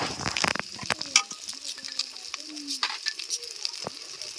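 Chili powder, turmeric and ginger fry in hot oil with a quiet crackling sizzle, broken up by scraping stirs and sharp clicks of a utensil against the pan.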